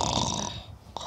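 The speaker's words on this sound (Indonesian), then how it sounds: "Siapa yang ngorok?" A person snores with a long, rough, rasping inhale, loud and close, followed by a brief quiet pause and a short snort.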